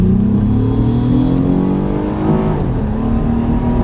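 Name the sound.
Acura TL Type S car accelerating in manual mode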